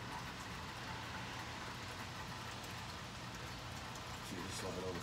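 Outdoor rain falls steadily as a broad, even hiss close to the microphone, with a low rumble like distant traffic underneath and no one speaking.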